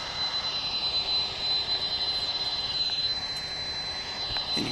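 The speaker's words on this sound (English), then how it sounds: "And you can hear the whine of the 767 jets there in the background" Boeing 767 jet engines whine steadily in the background at DFW International Airport, a thin, sustained high-pitched tone over a broad, distant roar, with no talking.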